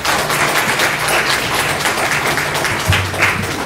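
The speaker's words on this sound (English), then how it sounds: "just a round of applause for making it here." A school board meeting audience claps for retirees at a reception, a short, fairly close burst of uneven clapping with a low hum and some background murmur beneath.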